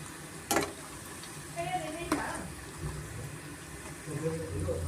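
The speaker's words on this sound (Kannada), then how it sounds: "ಮೀಡಿಯಂ ಫ್ಲೇಮಲ್ಲಿ ಎರಡು ಸೈಡು ನಾವು ಚೆನ್ನಾಗಿ ಫ್ರೈ ಮಾಡ್ಕೊಬೇಕಾಗುತ್ತೆ" Sago and onion bondas frying in oil on a medium flame, a soft steady bubbling sizzle with a few sharp clinks of a utensil, under faint background noise.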